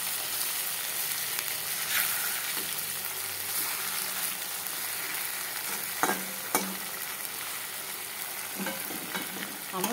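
Raw folui fish sizzles in a pan, a continuous moderate frying crackle broken by a few soft clicks and scrapes of stirring, with no voices.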